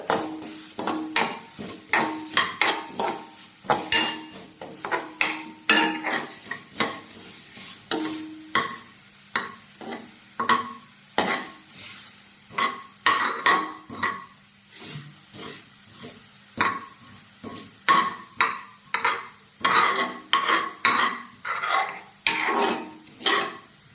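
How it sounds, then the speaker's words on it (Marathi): Vermicelli (shevaya) roasts in a kadhai for kheer, stirred briskly so a spatula scrapes and clatters against the pan in a fast, regular rhythm over a faint sizzle. "त्यानंतर मी कढईमध्ये आता शेवया टाकणार आहे आणि हा शेवया थोडेसे मी लाल रंगावर ब्राऊनसर सुपामध्ये चांगलं मी परतून घेत आहे"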